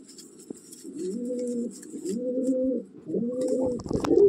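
An aggressive Madrasi pigeon, one of a breeding pair, coos close by in three repeated rolling phrases with brief gaps, ending in a sharper note.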